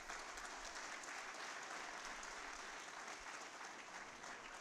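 Sustained audience applause at a student event in Karkala, steady and dense throughout, fairly distant and even in level with no voices standing out.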